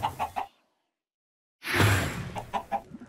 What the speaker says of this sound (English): Spawning a mob.